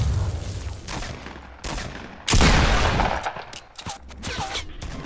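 Fortnite Battle Royale gunfire, loud bursts of rapid shots in clustered volleys separated by short gaps, with a heavy sustained burst in the middle and sharp individual cracks toward the end.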